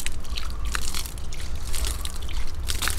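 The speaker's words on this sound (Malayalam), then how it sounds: "ഇതിലോട്ട് സ്വല്പം വെള്ളം തളിച്ച് കൊടുക്കാം." Water is sprinkled by hand onto freshly planted moss rose (portulaca) cuttings in soil, giving close, uneven splatters and wet patters in short bursts, with no talking.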